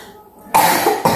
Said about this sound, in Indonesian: makanya Mbak batuk karena ada saraf yang membesar